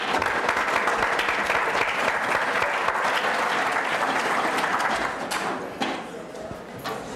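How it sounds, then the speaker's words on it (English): Loud, dense applause from a large audience at a university start-up competition finale, steady for about five seconds, then thinning and fading out, with a voice coming in toward the end. "Let's give a round of applause for our judges."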